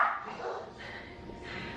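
Maxine, a pet dog indoors at a large family home, gives a short run of close yips and barks lasting under two seconds, with no talking.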